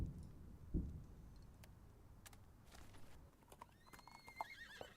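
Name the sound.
horse hooves and soft neigh in Burden of Command video game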